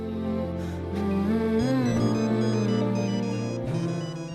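A melodic electronic phone ringtone plays steadily and loudly, its repeating tune sustained throughout with no voices over it.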